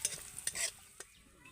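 Curry leaves fry lightly in hot oil, giving a short burst of crackling sizzle with a few sharp spits, then quickly settling to a faint hiss, with no voices.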